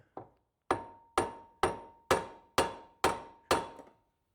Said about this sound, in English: Okay, now I believe this should just tap out.